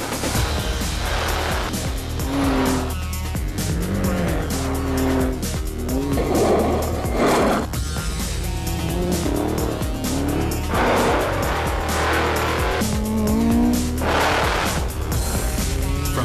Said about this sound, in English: The club is made up of Alice Springs locals who like to drive very fast over some very, very rough terrain.